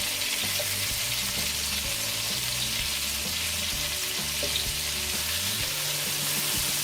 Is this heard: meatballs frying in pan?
yes